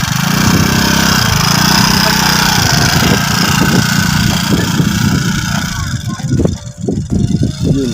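A motorcycle engine runs with a steady, loud putter that roughens and breaks into uneven revving bursts toward the end, heard close up.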